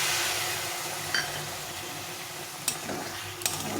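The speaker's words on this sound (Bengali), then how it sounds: "এই এক বাটির মতো জল নিয়েছি এটা কাঁচা জলই জলটা দিয়ে দেবো" Water pouring into a hot pan of banana flower curry brings a broad hiss of sizzling that stays steady at moderate level, with a few sharp ticks and clinks scattered through it.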